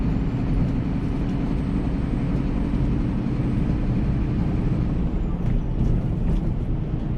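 Heavy lorry with an eight-speed 4 over 4 gearbox, its diesel engine droning loud and steady from the cab, a continuous low rumble with slight shifts in pitch as the gears change.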